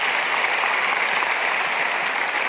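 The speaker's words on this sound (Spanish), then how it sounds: "denle un aplauso al Rey bendito" Crowd applause at a pastors' retreat in Argentina, dense and steady, loud and continuous from start to finish with no voice over it.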